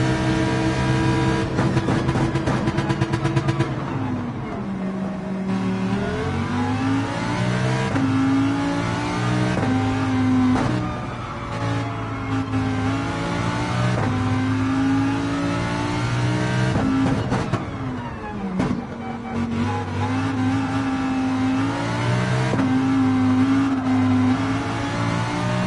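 Race car engine in a racing video game, revving hard and loud through repeated upshifts, pitch climbing and dropping with each gear change over a sustained high-rpm roar, with no talk.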